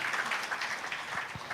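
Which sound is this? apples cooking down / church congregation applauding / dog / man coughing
church congregation applauding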